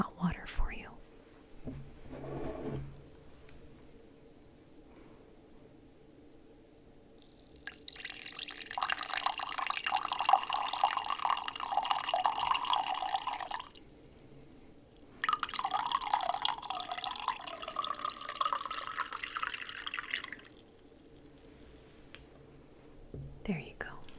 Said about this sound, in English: Let me get some hot water for you.